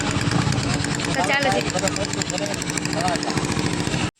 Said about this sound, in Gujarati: પપ્પા ગાડી ચાલુ કરે છે